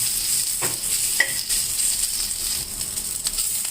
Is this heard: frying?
yes